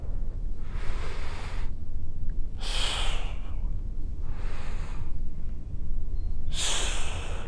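Heavy exercise breathing during a dumbbell press, with four loud, rough breath bursts repeating roughly every two seconds close to the mic over a steady low hum, without any talk.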